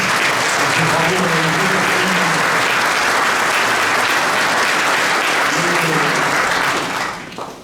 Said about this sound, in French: je crois que vous pouvez applaudir votre maire